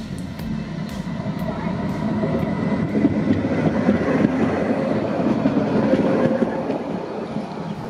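A Gotha tram rumbles along rails toward Waltershausen station, its steady low roar and faint rhythmic wheel clatter building as it moves off, with occasional metallic clicks.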